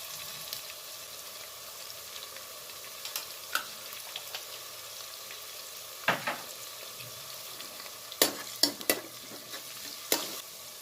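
Shredded cabbage fries quietly in a pan with a soft, steady sizzle, while a spoon stirs and scrapes now and then, making sharp clinks in clusters toward the end; no voices.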